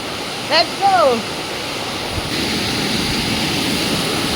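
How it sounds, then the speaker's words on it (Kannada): Chamadka waterfall roars as a broad, steady rush of water, with a couple of short high calls or voices early before the water noise swells a little louder. "ಇವತ್ತು ನಾವು ಚಾಮಡ್ಕ ಫಾಲ್ಸಿಗೆ ಬಂದಿದ್ವಿ."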